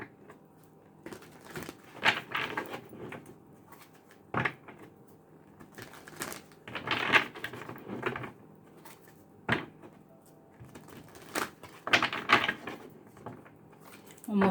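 Tarot cards are shuffled in repeated bursts of riffling and slapping that come in several clusters with quieter gaps between them, close and fairly loud, with no talking.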